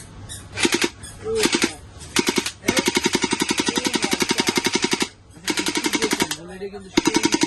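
An AK-47 style gel blaster fires in rapid automatic bursts, a close, loud mechanical rattle with short pauses between strings of shots and a few single shots.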